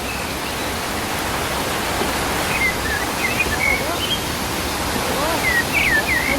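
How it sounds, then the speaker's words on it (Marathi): Parola waterfall near Hingoli roars close and loud in a steady, unbroken rush of falling water, with a few thin high chirps flickering above it. "पारवाचा धबधबा म्हणतात त्याला"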